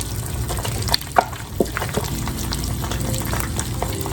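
Eggs frying in a hot pan for steak and eggs, a steady close sizzle with a few sharp pops and crackles and no talk.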